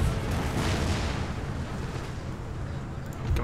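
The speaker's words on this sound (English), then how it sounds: "Got my howitzers to hit that unit." Howitzer artillery fire in the Empire Total War video game, a dense continuous rumble of booming cannon shots blending into a steady loud roar with no voices.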